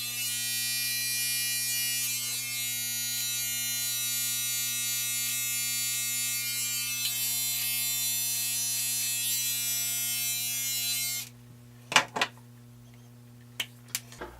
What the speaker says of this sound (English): I don't want to go overboard trimming these stragglers